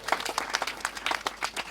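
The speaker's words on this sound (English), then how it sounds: "one more round of applause to all of you who has helped make this happen" A small community crowd gathered to celebrate dredging at the lava-inundated Pohoiki boat ramp gives a quiet round of applause, with individual hand claps distinct and loosely rhythmic, heard from a slight distance.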